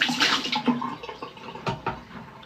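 Water poured over a person during a live stream, splashing and pattering in uneven bursts across the clip, moderately loud and close with no talk.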